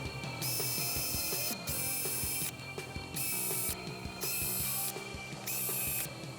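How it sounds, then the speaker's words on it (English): A drill whirs in repeated bursts of about a second each, biting through plastic with grinding, ratcheting noise between pauses. "drilling some holes in some PVC pipes"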